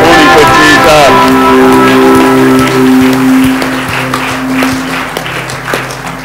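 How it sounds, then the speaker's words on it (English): Church congregation at Baldavis Church applauding during a morning service, a broad wash of clapping with sustained organ or keyboard chords ringing underneath, steady and fairly loud throughout. "Give him a big round of applause this morning for Jesus."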